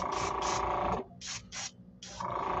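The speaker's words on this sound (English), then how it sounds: "Spray these white." Short hissing bursts from a spray can of white paint aimed at small topwater fishing lures, several puffs in a row with brief pauses between them, close and fairly loud, with a low mechanical hum under the first and last bursts.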